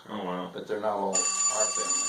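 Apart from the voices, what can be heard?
telephone ringing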